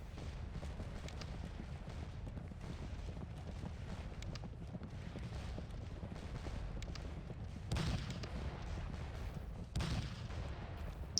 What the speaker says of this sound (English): the opening stage of the battle, which is an artillery duel